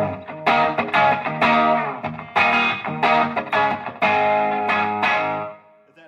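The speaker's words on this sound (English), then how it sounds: "I'm just driving it through the front end with my pickups on my guitar." An electric guitar is driven straight into a triple-channel amp's front end by its pickups alone, giving a crunchy, slightly distorted tone: a series of strummed chords ringing close and loud, then fading out.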